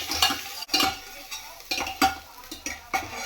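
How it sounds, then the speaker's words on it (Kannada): Chopped onion frying in hot oil for mutton sambar, a soft crackling sizzle under repeated stirring scrapes and spatula clinks against the pan, fairly quiet and close, no talking. "ಅದನ್ನು ಇವಾಗ ಬಿಸಿ ಆಗಿದೆ ಆಯಿಲು, ಅದನ್ನು ಹಾಕ್ತೀನಿ. ನಂತರ ಫ್ರೈ ಮಾಡ್ಕೊಳ್ಳಿ ಚೆನ್ನಾಗಿ."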